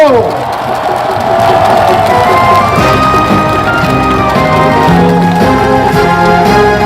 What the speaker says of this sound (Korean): 힘차게 박수로 환영해 주십시오.